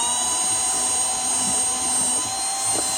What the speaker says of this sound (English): I'm going to drill it out.